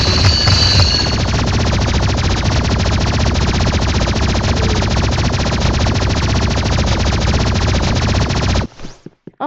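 An energy pistol fires at zombies in a shooter game, a long, loud unbroken burst of rapid shots that ends abruptly near the close.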